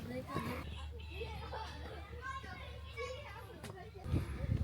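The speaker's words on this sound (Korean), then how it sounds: "로컬 애기들 뛰어놀고 있는 모습" Local children running and playing in a public park in Izuhara, Tsushima, their shouts and chatter faint and distant over steady outdoor background noise.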